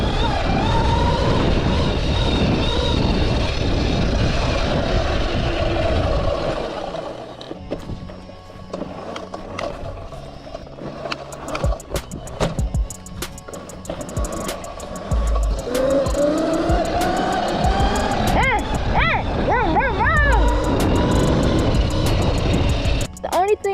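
A Mototec 60v 2000W electric dirt bike rides off-road with rising and falling motor whine, wind rush and knocks from rough ground, heard close along with voices.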